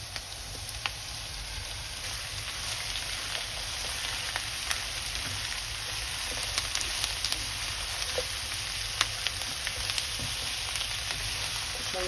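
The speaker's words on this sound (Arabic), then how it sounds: "ابتدى الباذنجان كمان يتحمر." Eggplant and potato cubes sizzle in hot oil in a pan, a continuous even crackling hiss at moderate volume with scattered small pops and stirring taps throughout.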